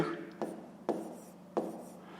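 A pen scratches across paper in three quick strokes, close and crisp over a soft background hiss, while writing out a fifth-grade fraction subtraction problem.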